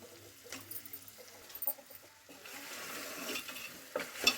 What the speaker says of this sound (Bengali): এবার আমি ভেজে রাখা আলুগুলো দিয়ে দিচ্ছি